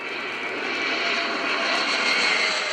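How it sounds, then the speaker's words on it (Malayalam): Six SEPECAT Jaguar fighter jets fly over an air show in Thiruvananthapuram, their engines producing a loud, steady, swelling roar with no voices. "സാരംഗ് കളമൊഴിഞ്ഞപ്പോൾ 6 ജഗ്വാർ യുദ്ധവിമാനങ്ങൾ കൂട്ടത്തോടെ എത്തി."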